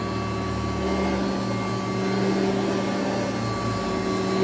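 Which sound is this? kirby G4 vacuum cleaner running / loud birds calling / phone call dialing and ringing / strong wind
kirby G4 vacuum cleaner running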